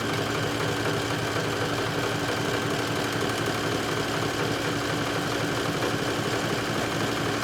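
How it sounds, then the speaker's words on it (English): A home sewing machine runs a straight triple stretch stitch on a swim top, giving a continuous, even mechanical whirr at steady speed throughout. "I will continue to stitch with a straight triple stretch stitch"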